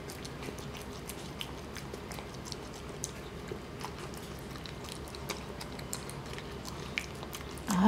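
Dachshund chewing Harim Pet Food The Real Meal chicken dog food, close-up crunchy bites and wet mastication in an irregular steady rhythm, quiet and alone.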